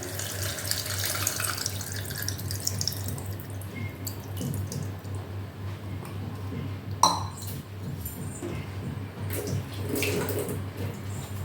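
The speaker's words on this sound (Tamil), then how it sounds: "கொஞ்சம் புளி தண்ணி ஆட் பண்ணிக்கிறேன்" Tamarind water pours into a taro root curry being cooked in a pressure cooker: a steady liquid trickle with a faint clink near the middle, over a constant low kitchen hum.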